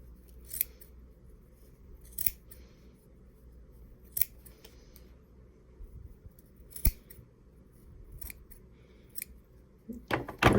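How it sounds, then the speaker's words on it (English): Sharp scissor snips cut through a large loop of yarn for a pom pom, about eight separate crisp cuts spaced a second or two apart over a faint background hum, close and fairly quiet. "you'll just put your scissors through like this and give it a trim"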